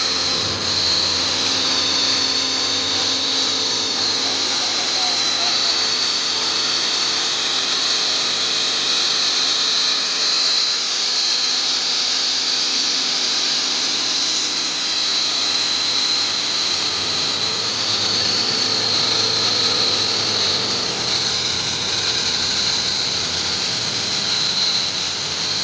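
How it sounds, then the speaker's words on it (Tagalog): An air blower blows loose gravel and dirt off a concrete slab joint before a pour, a steady, loud whooshing hiss with a high whine that runs on unbroken for the whole stretch, with no one talking. "importante yung pagbuga niyan kasi para matanggal yung mga dumi"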